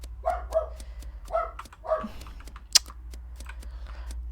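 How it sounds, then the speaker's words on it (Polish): A pet dog barks indoors in a room, giving four sharp mid-distance barks in quick pairs, with light keyboard typing clicks scattered throughout and a steady low hum underneath. "znowu mój pies, naprawdę mój pies może się uspokoić?"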